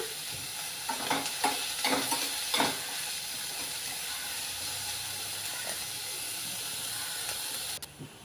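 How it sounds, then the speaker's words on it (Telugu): Onions fry in a pan with a steady soft sizzle, several close stirring scrapes early on and then a quieter continuous hiss, no voices. "ఉల్లిపాయలు బ్రౌన్ కలర్ వచ్చినంత వరకు వేయించుకోవాలి"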